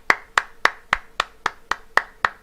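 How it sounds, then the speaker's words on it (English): Nine even handclaps from a single person, sharp and close, in a steady rhythm about a quarter second apart, with no other voices. "Let's give a big round of applause to CK530"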